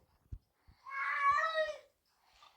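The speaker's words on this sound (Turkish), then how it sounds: "Arkadaşlar kedimizin sesi." A single drawn-out cat meow, close and clear, with a few faint taps before it and a softer sound trailing after.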